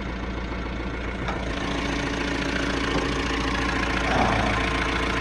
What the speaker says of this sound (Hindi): इसके इंजन की आवाज़ जो ये गुर्राती है गाड़ी वो दिखाते हैं